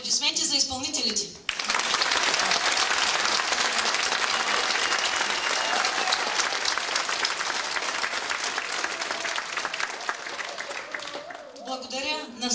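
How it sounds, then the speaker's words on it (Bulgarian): A concert audience claps for the folk dance performers in one dense, sustained burst of applause lasting several seconds. A voice speaks briefly just before the clapping and again as it fades. "Аплодисменти за изпълнителите."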